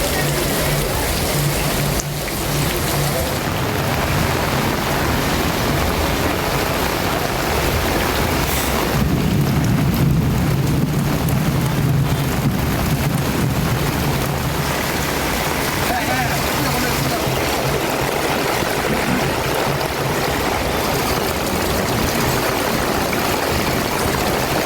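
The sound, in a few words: heavy rain in Ramanathapuram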